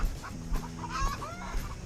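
Several hens cluck nearby in short, uneven bursts around a henhouse, with a few rising squawks and soft thuds in the background.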